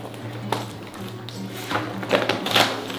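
A snack box being opened with scissors and a knife: scattered close snips, taps and cardboard scrapes over a low steady room hum.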